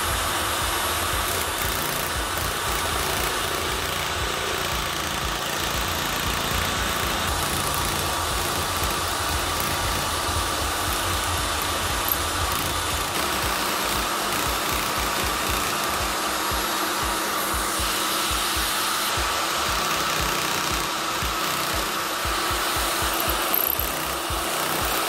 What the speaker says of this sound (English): So next job I need to do is to cut the letters.